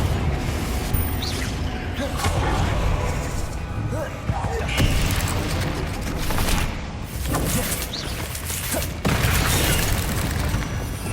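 Blasting-spell explosions, including Confringo, in Hogwarts Legacy combat against spiders, loud booms and impacts one after another over dense battle noise while a voice speaks.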